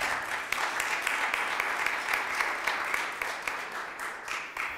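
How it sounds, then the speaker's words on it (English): Applause rises for a candidate at a 15th Ward aldermanic runoff election forum, a dense, sustained clapping from a crowd lasting throughout, fairly even with no talk over it. "Give him a better round of applause than that"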